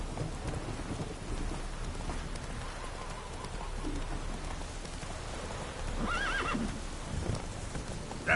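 Roach, the horse in The Witcher 3, trots through steady rain with a low rumble of thunder, then lets out a clear neigh near the end, over a constant patter of rain.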